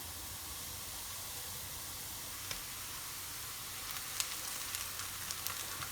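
Browned vegetables sizzle with a spoonful of tomato paste in a hot pan, a soft continuous frying hiss with a few sharp crackles and stirring clicks toward the end, no talking.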